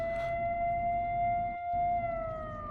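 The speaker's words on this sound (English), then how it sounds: "That lovely siren will also be with us for the rest of this." A video game siren holds a steady, sustained wail that slowly sinks in pitch and briefly cuts out midway, moderately loud over a low background rumble.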